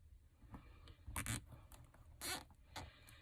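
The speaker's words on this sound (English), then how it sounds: "I'm going to take another zip tie. And I'm going to just attach it to one of the frame" A plastic zip tie being pulled tight around the plastic piece of a wreath frame, giving a few short, close ratcheting zips with small clicks and rustles between them in a quiet room.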